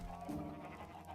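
Sheep bleat in a Minecraft multiplayer base, with one close, steady, buzzing bleat that swells partway through and holds for about a second.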